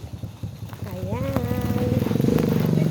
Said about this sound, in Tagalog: may motor na dadaan